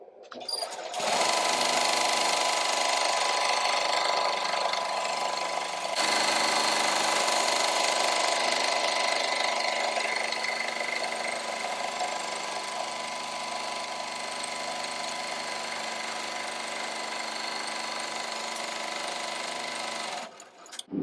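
An embroidery machine stitching a coaster in the hoop gives a steady, loud mechanical whirring hum with a brief change partway through, running for about twenty seconds before stopping abruptly.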